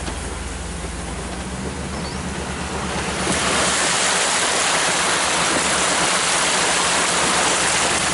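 A vehicle splashes through a big gravel puddle on rural hunting land; a low rumble gives way to a loud, continuous rush of spraying water that lasts several seconds.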